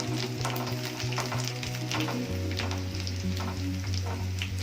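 Onions fry in a pan during home cooking of a traditional dish, a constant crackling sizzle close by with a low steady hum beneath it.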